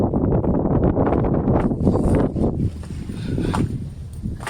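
Strong wind aboard a merchant ship in bad, cold weather buffets the microphone with a loud, rumbling roar that surges and eases, dropping somewhat in the second half.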